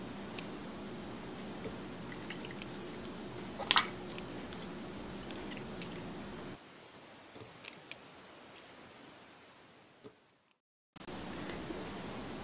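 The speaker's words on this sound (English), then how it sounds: "add a little bit of activator at a time and massage the slime with the activator" Water slime being kneaded by hand with activator added a little at a time, soft close squishing and wet sticky patters, quiet and intimate with brief louder squelches and no talk.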